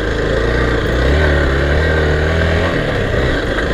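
An air-cooled Hero XPulse 200 dual-sport motorcycle engine revs close by, a loud throbbing drone that swells briefly and then settles back, with no voices over it.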